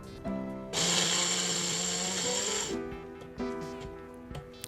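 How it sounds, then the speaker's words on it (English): Mixer grinder coarsely grinding dry vada pav chutney, a loud close whirring burst of about two seconds with rattling contents, then shorter pulses and motor whine fading out. "Grind it to a coarser texture."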